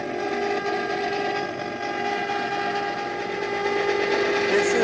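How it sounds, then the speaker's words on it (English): A Cuisinart ice cream maker churning orange creamsicle ice cream hums and whirs continuously with a steady mechanical drone, close and fairly loud, with no pauses. "Our orange creamsicle is in the ice cream maker."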